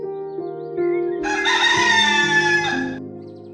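A single rooster crows loudly and close, one long drawn-out cock-a-doodle-doo rising and holding before it fades, with a soft tone underneath, in a Hindi children's cartoon story.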